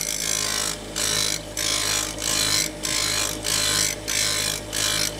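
A plane blade is pressed against a spinning grinding wheel in repeated passes of about half a second, each a bright hiss over a steady motor hum, alone and close.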